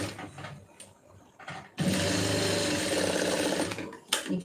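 A sewing machine runs a continuous stitching burst on the shoulder seam of a lined blouse, close and steady for about two seconds after brief quieter handling sounds, then stops.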